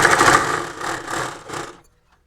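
A sewing machine stitching a saree blouse, running in a few close, loud bursts that swell and fade over about two seconds before stopping abruptly into silence.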